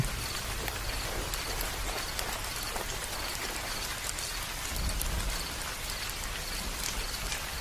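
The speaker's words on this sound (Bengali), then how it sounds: "টিনের চালে বৃষ্টির শব্দ আরো জোরে বাজতে লাগল" Rain drums steadily on a tin roof, a dense even hiss of countless drops pattering without pause, moderately loud and unbroken by voices.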